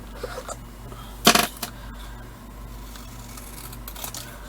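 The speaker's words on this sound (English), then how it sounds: "I'm just going to snip it." Scissors give a quick, crisp snip through paper while a handmade card is being made, a short bright burst standing out over quiet background noise.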